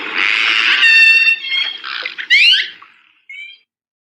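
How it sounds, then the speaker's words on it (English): A killer whale calf repeats its mother's call as a series of loud, harmonic squealing calls with rising sweeps, then a shorter, fainter call after a brief gap. "We have a mother's call being repeated by the calf."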